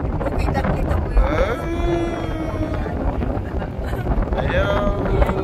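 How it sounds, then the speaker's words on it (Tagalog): Strong wind buffets the microphone during a boat ride in San Diego, a continuous rushing roar with voices talking faintly underneath. "Ang sarap ng hangin sa taas yun."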